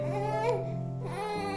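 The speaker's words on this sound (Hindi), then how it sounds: "बच्चा रो रहा है लेकिन" A young child with spastic cerebral palsy cries and whimpers while having a limb bent and straightened during a home physiotherapy exercise, close and continuous, with a steady low hum underneath.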